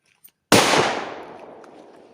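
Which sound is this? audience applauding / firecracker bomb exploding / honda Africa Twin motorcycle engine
firecracker bomb exploding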